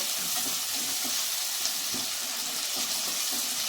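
Tomato and raw mango pieces fry in an oil-filled pan for an Andhra-style fish curry, giving a steady close sizzle with soft scraping stirs throughout and no talking.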